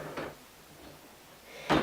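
A makeup drawer opens and closes with two short wooden sliding knocks, one near the start and a louder one at the end, with quiet room noise between and no talk.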